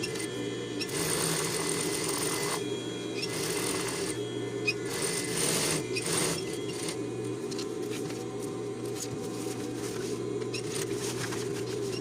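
Sewing machine stitching the seam of a rain jacket, a steady mechanical whir running continuously with brief bursts of faster stitching, close and fairly loud throughout.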